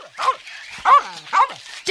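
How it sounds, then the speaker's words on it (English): A small dog named Scamper, acting as a watchdog, gives three sharp, fairly close barks spaced about half a second apart, mixed with some faint whimpering yips. "He barked round their ankles as the children got nearer."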